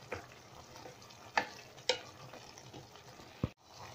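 Chicken sotanghon sautéing in a pan, a quiet steady sizzle broken by several distinct scrapes and knocks of a spatula stirring the noodles.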